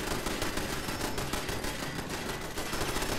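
Dense, rapid automatic gunfire rattles continuously and loudly in a PvP video game match, a relentless stream of shots with no pauses and no voices.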